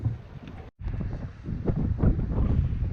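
Strong wind buffets the microphone at a small hillside campsite beside an Algonquin lake, a steady loud rumbling roar that drops out for a moment near the start and then surges back.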